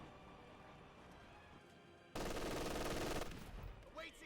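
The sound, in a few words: MG42 machine gun firing in the video game Company of Heroes 2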